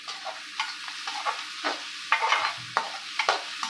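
Chopped onion, green chilli and curry leaves hiss and crackle in hot oil for aloo paratha filling, with repeated scraping stirs of a spatula in the pan setting a loose rhythm of bursts.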